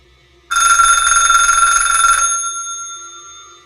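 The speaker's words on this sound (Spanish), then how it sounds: "a los pocos minutos sonó el teléfono" A telephone bell rings once in a loud, rapid metallic trill lasting under two seconds, then its tone lingers and fades.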